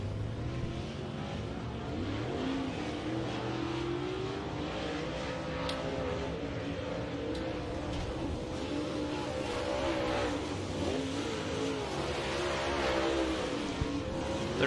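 Lucas Oil late model race cars circle the dirt track at Farmer City, their engines droning and revving in overlapping waves that rise and fall as the cars pass, moderately distant and continuous, with no voices.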